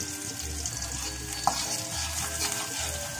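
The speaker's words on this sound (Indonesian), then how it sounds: "Kita tumis dulu bawang merahnya sampai daunnya harum ya" Shallots sauté in a pan for ayam rica-rica kemangi, with a continuous close sizzle and rhythmic scraping strokes of a spatula, plus one brief clink.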